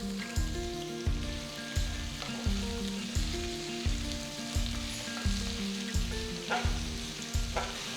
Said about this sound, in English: Saute the onions till they are a nice golden color.